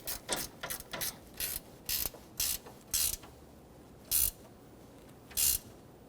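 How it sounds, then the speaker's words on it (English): Ratchet tightening a condenser bolt on a 2005-2021 Nissan Frontier, a series of short sharp clicking bursts in uneven rhythm, close, with pauses between strokes. "Just tighten it and then give it a nice little quarter turn."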